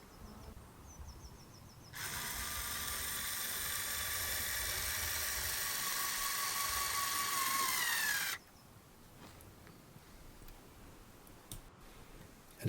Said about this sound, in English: let's get all these screws securely in